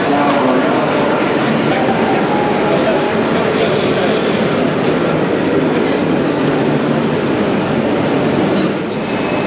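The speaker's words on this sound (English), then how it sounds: "It still amazes me, a double-decker TGV." Loud, steady rumble and hiss of a double-decker TGV high-speed train at the busy Gare de Lyon station in Paris, a continuous broad roar filling the whole stretch.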